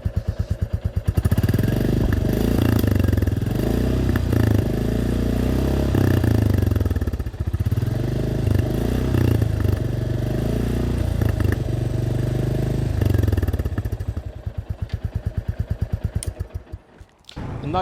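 A Royal Enfield Classic 350 single-cylinder motorcycle engine idles with a steady, low, loping thump, close and loud, then revs briefly and fades near the end.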